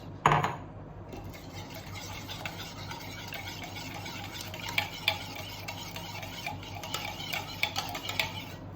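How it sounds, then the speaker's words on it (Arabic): A flour mixture with tap water being stirred in a bowl, steady scraping and mixing with scattered light clicks of a utensil against the side. "احنا هنقلب بس الخليط كده شويه مع بعض وخلاص"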